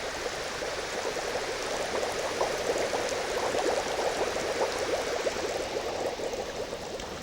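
Air bubbles stream steadily through a tank of fluid in a lab demonstration, a continuous close bubbling and gurgling wash with no talking.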